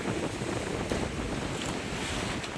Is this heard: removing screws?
no